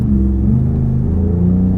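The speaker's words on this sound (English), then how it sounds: "listen to those speakers providing that excellent exhaust note" Ford Raptor pickup truck exhaust note, piped through speakers, a loud close low rumbling drone held steady for under two seconds with slight wavering in pitch.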